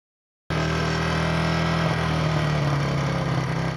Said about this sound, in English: Here's the engine before the Doppler effect.